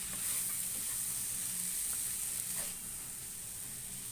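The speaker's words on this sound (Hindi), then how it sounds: "इसको चलाते रहना थोड़ी देर। देखो मैंने चलाया थोड़ी देर" Mango pickle mixture of chopped Rajapuri mango being stirred in a hot pan at home; a continuous bright sizzle with faint scraping stirs, close and steady, easing slightly after a few seconds, no voices.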